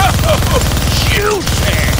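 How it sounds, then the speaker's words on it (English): A minigun fires from a helicopter in the Deadpool video game: a dense, continuous rapid-fire rattle under a low engine drone, with short whistling tones and a voice speaking over it. "Gonna need both hands to shoot that minigun."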